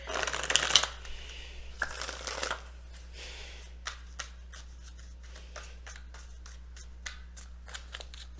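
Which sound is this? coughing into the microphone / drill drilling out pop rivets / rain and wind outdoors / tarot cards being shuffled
tarot cards being shuffled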